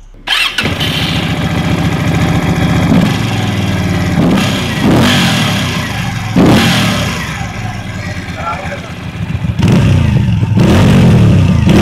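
A Keeway Benda V252C 250cc V-twin cruiser motorcycle starts up and idles with a rumbling throb, then is blipped through several sharp revs that rise and fall, loud and close.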